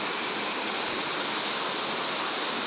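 Pradhan Pat waterfall, water pouring down a hillside, heard close as a steady, dense roar of rushing water with no break and no voices.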